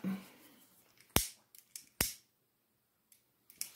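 Scissors snip through a ribbon while a shabby-style altered notebook is being made, giving two sharp cuts followed by a few lighter clicks in a quiet room.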